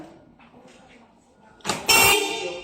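A single loud blow pump horn blast from a motorcycle or car horn erupts after a quiet stretch of faint background noise, harsh and bright, lasting under a second.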